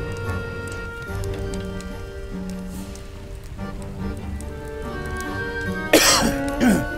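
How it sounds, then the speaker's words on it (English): A single person's cough breaks out near the end, a sharp burst followed by a shorter one, heard over steady fantasy game music that plays throughout. "Try to mute if I'm gonna cough."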